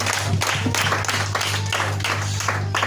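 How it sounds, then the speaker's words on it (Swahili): Church congregation clapping in praise of Jesus at a Ujamaa church service, a steady broadband patter of many hands running throughout over a constant low hum, fairly close and even in loudness. "Pigia Yesu makofi mazuri."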